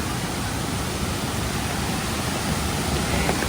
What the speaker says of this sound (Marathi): पाण्याचा वेग पाहू शकता प्रचंड वेगाने पाणी वाहत आहे